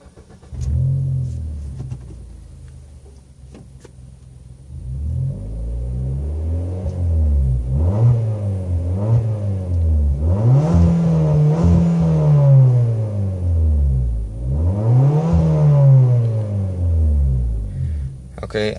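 A 2015 Suzuki Swift fitted with a Dynomax Super Turbo exhaust revs repeatedly, the engine climbing and falling in several rising sweeps over a steady idle rumble, heard up close with the windows closed.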